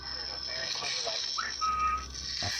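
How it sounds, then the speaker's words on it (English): A faint, short whistled tone rises and then holds briefly over a steady high-pitched hiss and low background noise. "this next one is a definite whistle"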